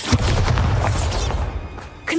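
A deep, booming spell explosion in the Hogwarts Legacy video game bursts at the start, rumbling on with crackling debris and low thuds before a brief sharp magical effect near the end.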